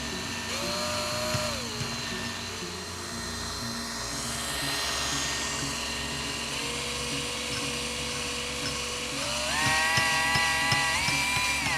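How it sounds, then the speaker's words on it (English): A power drill spins a neodymium magnet inside a copper sphere, giving a steady whirring motor whine whose pitch glides up and down as speed changes, close and continuous without talk. "Let's try a drill."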